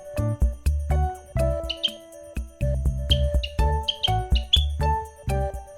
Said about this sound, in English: This is sparrow.